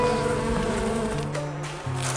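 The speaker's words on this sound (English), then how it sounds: "bees pollinating the orchards" Close, droning buzz of bees pollinating orchards in Clonmel, Ireland, a dense layered hum shifting slightly in pitch as insects move about, continuous and fairly loud.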